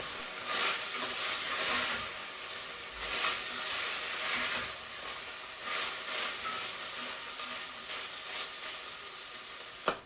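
Pork browning uncovered in a pan, a steady close sizzle and hiss with occasional louder crackles and a faint stir near the end, no talking.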